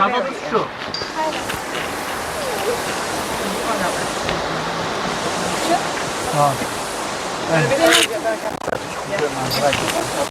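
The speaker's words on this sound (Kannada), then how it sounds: "ಇದು ವಾಟರ್ ಫಾಲ್ಸ್ ಬೀಳ್ತಾ ಇರೋದು" Lauterbrunnen waterfall in Switzerland pours down as a steady, close broadband rush of falling water, continuous and loud throughout, with faint voices and scattered splashy bursts on top.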